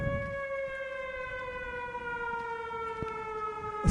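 Alone and unbroken, a civil-defence style siren in Everybody's Gone To The Rapture sounds a long sustained tone that slowly falls in pitch, fairly loud and close, with faint clicks in the background.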